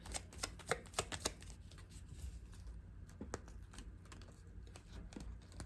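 Tarot cards being shuffled and handled, giving quick riffling clicks and soft flutters in bursts, strongest near the start and then sparser taps, fairly close and quiet with no talking.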